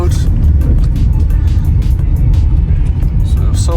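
Vauxhall Astra 1.7 TDCi diesel hatchback driven under load on a short run around the block, its engine droning loud and steady with deep low rumble throughout, a diesel earlier prone to stalling and surging.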